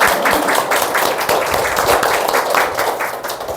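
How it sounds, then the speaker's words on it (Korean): A church congregation claps in welcome during a worship service, a lively burst of many hands clapping in quick irregular rhythm, close and fairly loud throughout. "환영의 박수 한번 주세요."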